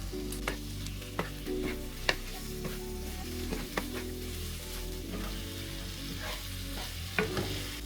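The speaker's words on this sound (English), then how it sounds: "Now add your chicken. Cook the chicken for about 5 minutes." Chicken pieces frying in a pan for butter chicken, with a steady close sizzle and repeated scraping knocks of a spoon stirring through the meat and onions.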